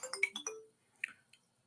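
A phone ringtone or notification chime plays during a livestream, a quick cluster of bright melodic tones followed by two softer blips, clear and alone.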